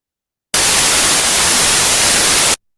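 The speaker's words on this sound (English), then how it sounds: "And this was my noisy random noise." Steady broadband random noise test signal, a continuous hiss-like static burst of about two seconds at constant loudness, starting and stopping abruptly with silence on either side.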